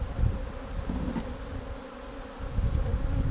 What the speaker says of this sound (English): Now we can pour the balance of the bees in. Shake them down the funnel into the collection box.